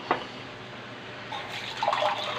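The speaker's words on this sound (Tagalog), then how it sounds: "Tuyo na siya, kaya dagdagan natin ng tubig again." Water poured into a pan of simmering ground pork stew in a home kitchen, a faint splash and trickle after a brief clink, quiet overall.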